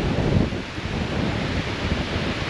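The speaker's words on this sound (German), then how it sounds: "Ein bisschen Wind ist ja okay." Wind gusts buffeting a microphone outdoors on a bicycle caravan tour, a steady broadband roar with a stronger swell early on, loud and close, with no voices.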